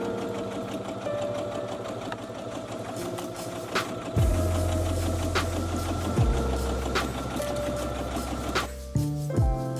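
A sewing machine runs the first seam of a Christmas dress at a 3.5 stitch length, a steady close mechanical whir with a rapid needle rhythm and brief pauses and speed changes near the end.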